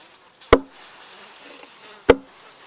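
Two sharp slaps on the side of a wooden hive box in winter, about a second and a half apart, with a faint low hum of honeybees inside the hive between the hits.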